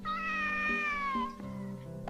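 Cartoon cat meowing, a single long drawn-out meow with a sliding pitch, followed by a shorter cry, close and clear with no talking.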